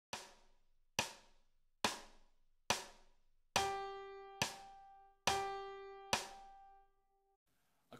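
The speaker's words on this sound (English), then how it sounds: "A half note is one note extended over two beats, and it sounds like this." Soft metronome clicks tick a steady beat, then sustained half notes enter, each pitch held across two clicks before the next sounds, quiet and alone.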